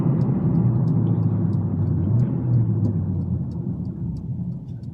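A Mercedes CLA45s AMG in race mode drives at night, its engine a loud, steady low drone with road roar, easing slightly toward the end.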